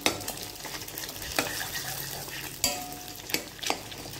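Stirring leftover idiyappam with egg in a hot pan for idiyappam kothu: scraping spoon strokes and sharp pan knocks at a few points over a steady sizzle, close and moderately loud, with no talking.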